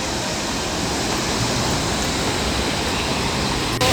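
A mountain waterfall beside a trekking trail in Garhwal, Uttarakhand, roars as a steady, broad rushing wash of water, with no talking.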